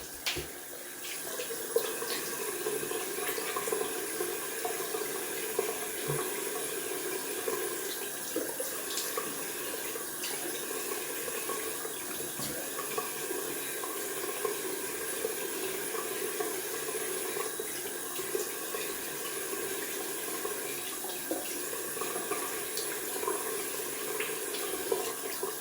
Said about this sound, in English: We're gonna rinse off with cold water.